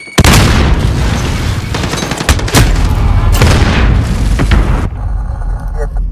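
A grenade blast in Call of Duty: Modern Warfare, a sharp loud boom followed by a dense burst of gunfire and rumbling explosions that cut off abruptly near the end.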